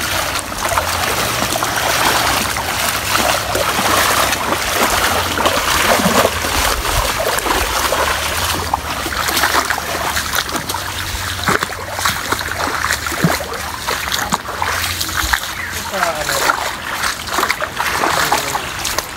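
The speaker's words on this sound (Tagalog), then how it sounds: "So dito tayo sa sapa" Water trickles and splashes continuously in a countryside creek in Bicol, Philippines, with occasional louder splatters and rustles, close by and moderately loud.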